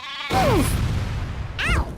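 Exploding sheep in the Worms 2: Armageddon video game bleat twice with sharp, wavering cries, close and loud over a low rumbling boom, with no talking.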